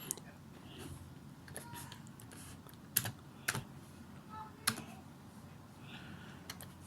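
Computer keyboard typing while entering a few lines of MATLAB code, a steady patter of soft keystrokes with several sharper, louder clicks standing out, recorded close under a faint background hiss.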